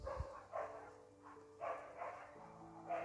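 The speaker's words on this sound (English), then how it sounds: "There's a lot of dogs in this village." Several dogs bark at a distance across a village, with faint, scattered barks repeating in uneven bursts beneath a quiet background hum.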